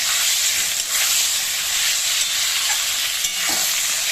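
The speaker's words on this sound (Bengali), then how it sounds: "আলুর সাথে কাঁচকলাটাও সুন্দর করে ভাজতে হবে দেখুন ভাজা হয়ে যাচ্ছে" Potato and green banana frying in a pan with slit green chillies, a steady loud sizzle with stirring scrapes, no voices.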